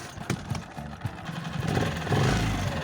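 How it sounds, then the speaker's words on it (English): An outboard boat engine, choked with a little gas and a primed fuel ball, catches after two pull-cord pulls, its clattering mechanical rumble building and growing louder toward the end. "time to buckle up for safety and start the engine. Choke on, a little bit of gas, pump the ball, and we pull twice."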